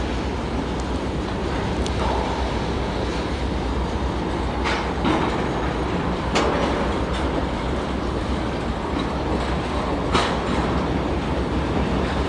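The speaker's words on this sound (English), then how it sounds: "Humping action here in Greybull, Wyoming." Freight cars rolling through a BNSF hump yard in Greybull, Wyoming, a steady continuous rumble with occasional sharp metallic clanks and brief wheel squeals, fairly close, with no talk.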